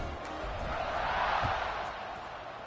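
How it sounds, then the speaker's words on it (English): A large football stadium crowd roars in a broad, sustained wash of noise after a score, swelling slightly and then easing off. "this crowd is buzzing after that last score"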